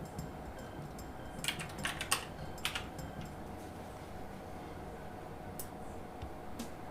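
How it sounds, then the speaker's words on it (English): Clicks of keys being typed on a computer keyboard while making an image in Blender, a short irregular burst of taps around the middle over a steady low hum, fairly faint and with no talk. "I'm going to type teacup."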